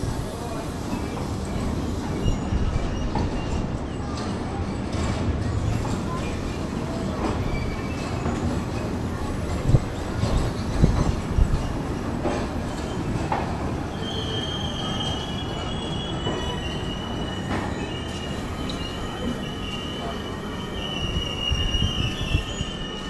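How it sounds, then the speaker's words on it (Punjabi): The Sarbat da Bhalla Express 22479 runs after departing Ludhiana toward Jalandhar, heard from on board: a steady rumble of rolling rail cars with high, sustained wheel squeals and scattered clanks. "ਲੁਧਿਆਣੇ ਤੋਂ ਡਿਪਾਰਚਰ ਲੈ ਲਿਆ ਜੀ"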